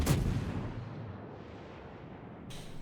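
Guns of the cruiser Belfast fire in World of Warships, a loud booming salvo right at the start, then a long rumbling decay that fades to a low roar, with a fresh burst near the end.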